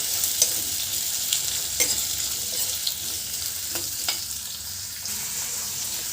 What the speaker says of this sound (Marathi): एक पाच मिनटं त्याला असंच तेलामध्ये आपण थोडंसं फ्राय करून घेणार आहोत